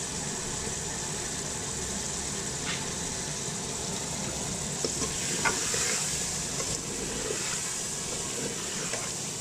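Chicken pieces frying in a spiced masala in a pan for aloo matar chicken, a steady close sizzle and hiss with occasional stirring clatter, no talking.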